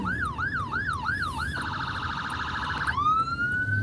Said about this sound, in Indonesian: Karena kita mendahulukan sirine.